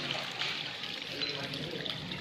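Water trickles steadily from the mouth of a cow statue at a Shiva temple, Dudhaleshwar Mahadev, a continuous hissing dribble heard up close with faint background voices.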